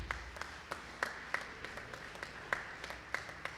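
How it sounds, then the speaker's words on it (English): Scattered audience clapping at a concert held in honour of Devan, sparse irregular claps from a modest crowd, somewhat distant over a soft room background. "Give yourselves a round of applause for supporting this"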